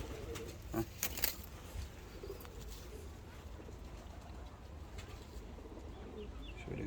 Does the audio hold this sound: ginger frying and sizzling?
no